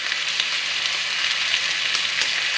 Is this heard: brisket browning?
yes